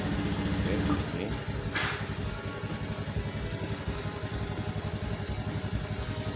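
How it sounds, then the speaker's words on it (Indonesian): A Honda Scoopy automatic scooter idling to warm up, a steady low engine putter with a mechanical clatter, close and continuous, with a brief hiss near the start. "kemudian kita nyalakan motornya sekitar 2 menitan atau mencapai suhu kerja mesin"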